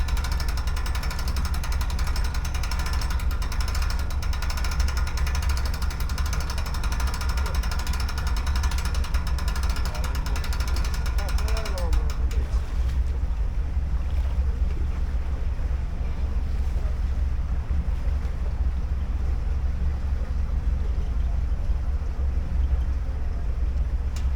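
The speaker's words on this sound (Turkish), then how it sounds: "Motor kendi kendine gaz veriyor" A boat outboard motor, left in water for a month, revs by itself, droning continuously under wind buffeting the microphone, its steady engine hum changing pitch slightly partway through.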